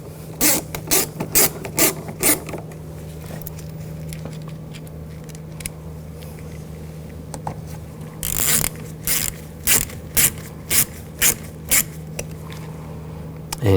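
Screws are driven into a window regulator inside the door of a 2000-2006 BMW X5, heard as bursts of rapid ratcheting clicks in quick runs with pauses between them, over a steady low hum.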